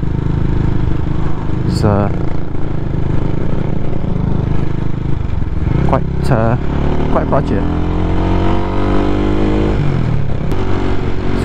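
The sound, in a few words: CCM Flat Tracker Classic motorcycle engine in third gear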